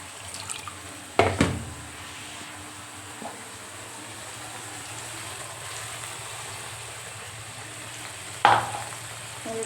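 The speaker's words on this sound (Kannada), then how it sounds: "ಕುದಿಯಾಕತ್ತೈತಿ." Masala curry gravy simmering in a pan after water is added, a soft steady bubbling hiss under faint background noise, broken by two sudden louder clatters or splashes near the start and end.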